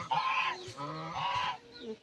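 Domestic goose honking at home, several loud nasal honks close by in quick succession.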